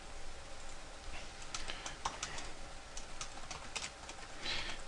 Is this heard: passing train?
no